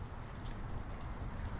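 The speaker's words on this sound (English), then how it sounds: "it's raining outside" Steady rain falls outdoors around a shop shed, a constant even wash of drops with no talk and no breaks.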